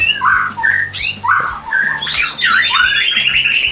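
A farm-bred white-rumped shama (murai batu), kept in a ceiling-space aviary, sings loudly and close, with rapid whistled phrases, chirps and sharp rising notes in a continuous, varied stream.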